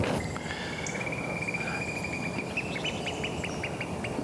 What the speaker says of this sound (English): I think there's some curlews. I think there's some oyster catchers.